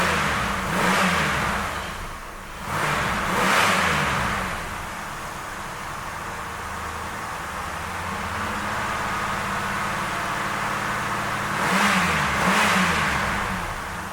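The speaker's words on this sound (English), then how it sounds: "engine sounds pretty good too." The engine of a 1988 Cadillac Coupe DeVille running after a radiator replacement, a steady close idle hum with a few gentle swells in revs, alone and without any talking.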